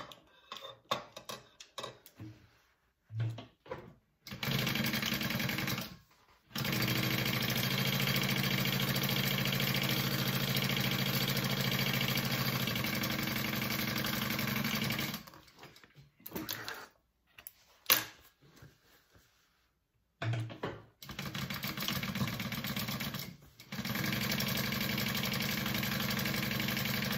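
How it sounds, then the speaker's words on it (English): Sewing machine stitching the top and bottom edges of a shoulder bag sewn into a tube, running in several steady motorized bursts with short pauses between, close and fairly loud. "we're gonna sew it like a tube, okay, along the top and along the bottom."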